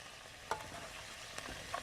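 Pork and vegetables frying in a pan for a stir fry, a steady low sizzle with a few brief clanks or stirring knocks, close and fairly quiet.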